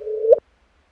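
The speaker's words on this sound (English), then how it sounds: "that is the sound of two black holes, each of about 30 solar masses" LIGO gravitational-wave signal from two merging black holes of about 30 solar masses each, rendered as a short steady tone that swells and rises into a brief upward chirp, then stops dead, under half a second overall.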